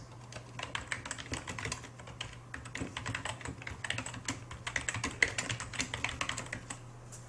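Rapid, irregular clicking of keys typed on a computer keyboard while entering text into a form header box, steady and close, with no talking.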